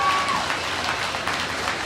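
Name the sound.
audience applause at a lamb show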